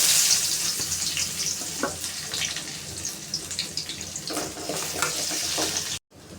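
About fifteen small shallots dropped into hot oil with spluttered mustard seeds for curd rice, giving a steady loud sizzle and crackle with stirring, cut off abruptly near the end.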